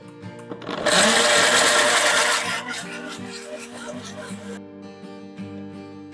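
An electric blender purees roughly chopped tomatoes into paste in a loud whirring burst of about four seconds, then gives way to a quieter hum.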